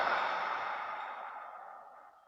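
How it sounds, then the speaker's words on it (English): A slow, deep exhale during a Kundalini yoga session, a single long, breathy rush of air that starts strong and gradually fades over a couple of seconds, close and alone with no talk. "and exhale completely."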